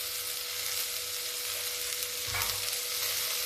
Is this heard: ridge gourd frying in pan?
yes